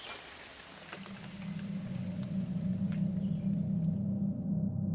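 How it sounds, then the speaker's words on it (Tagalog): Heavy rain pours steadily on a surface, a dense unbroken wash of drops that swells slightly louder over the seconds, with no voices. "Malakas pa rin ang ulan nun"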